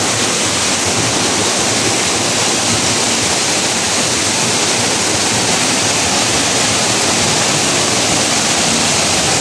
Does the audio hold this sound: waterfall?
yes